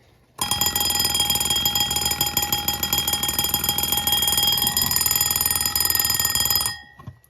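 A 1980s riveted Westclox Baby Ben wind-up alarm clock rings at full loudness, a steady, harsh metallic clatter running nonstop for about six seconds before cutting off.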